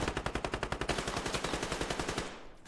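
Sustained automatic gunfire in the military shooter Squad: a rapid, evenly spaced stream of roughly two dozen close shots that cuts off and fades at the end.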